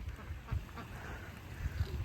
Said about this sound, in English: We have found all of the ducks.